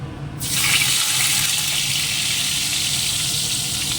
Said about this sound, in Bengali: কত জল চাপলাম তাও দেখুন কত জল বেরোচ্ছে